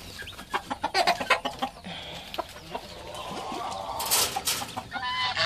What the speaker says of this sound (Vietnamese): mình dẫn các bạn đi coi con gà mái mẹ gà dữ rồng nha